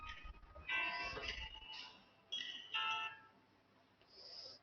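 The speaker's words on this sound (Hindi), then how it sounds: "मेरा फोन बार बार डिस्टर्ब कर रहा है।" A mobile phone ringtone plays a melodic pattern in several repeated bursts with short pauses between them. It sounds moderately loud and comes without any talking.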